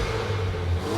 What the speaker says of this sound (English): a bit of crackle, little bit of pops and bangs, but nothing too extreme